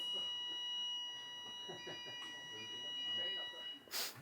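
Under talk, a sustained multi-tone alarm klaxon drones steadily at an immersive performance, then a brief loud burst breaks in near the end.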